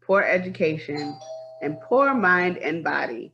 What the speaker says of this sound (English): pardon the doorbell